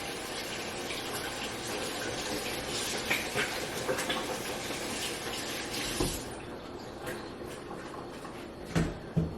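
Tap water runs steadily into a kitchen sink during hand washing while cooking dinner, a continuous close hiss with a few small splashes and clatters near the end.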